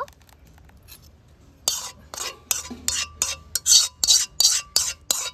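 A metal spoon scrapes and taps rhythmically against a strainer as homemade mango juice is pushed through it, a series of sharp, close clinks and scrapes that quicken after a quiet start.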